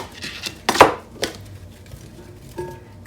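A knife chops through onions on a cutting board during summer cookout prep: a few scattered cuts, with one sharp, louder strike near the start and softer taps after it, close by and with no talk.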